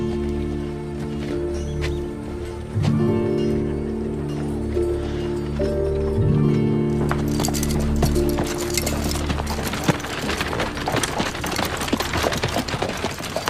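Horse hooves clip-clop in an uneven rhythm alongside deep music, the clatter growing busier and more scattered toward the end.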